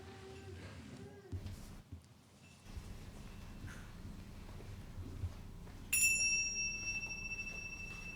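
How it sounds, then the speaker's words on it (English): Chimes ring out clearly near the end, bright sustained metallic tones lingering over a quiet room after some soft shuffling. "let us center our hearts and minds with the ringing of the chimes"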